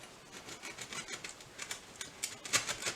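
A serrated knife saws through the crust of homemade white sandwich bread, a close, rhythmic series of dry, crackly rasping strokes growing louder toward the end.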